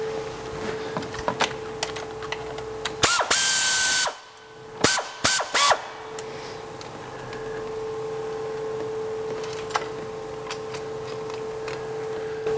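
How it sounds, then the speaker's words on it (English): An air ratchet undoes a valve body bolt on the GM 5L40E transmission of a BMW X3 3.0L. It gives a loud, close whirring burst, then several short bursts, over a steady hum of a running compressor. "I'm going to use an air ratchet to undo the last one"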